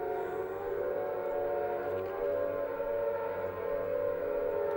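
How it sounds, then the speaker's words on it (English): Sustained wailing siren in the Silent Hill sewer level, a steady mournful tone droning continuously at constant loudness over low rumbling ambience, with no talk over it. "There's a siren again."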